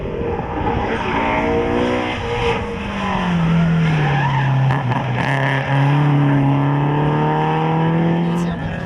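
Rally car, a Subaru driven at the 2015 Rallye de la Famenne in Belgium, skidding with loud sustained engine revving and rising, swooping tone across the stretch, close and continuous, with voices faintly underneath.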